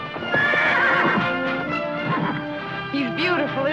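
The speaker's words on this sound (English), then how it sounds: "Make a great saddle horse if anyone can break him." An unbroken saddle horse whinnies loudly and repeatedly while its hooves clip-clop and scuffle close by, the snorting and neighing filling the scene in a western setting.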